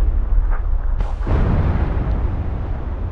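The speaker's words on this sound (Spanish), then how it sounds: "Ahí lo veo meterse en el humo y disparo... Disparo justo donde se ha parado." Gunfire in the video game PUBG, with a sharp shot followed by another report that booms and decays into a lingering rumble, loud and alone.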